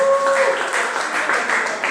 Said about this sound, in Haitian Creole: On applaudit Écritisé.